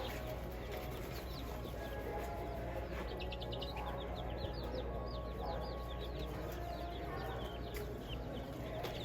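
Black Jersey Giant chickens cluck softly in the distance over a constant low hum, with scattered chirps and calls from other birds.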